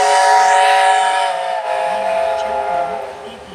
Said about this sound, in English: you can hear those lovely whistles and the big plumes of steam.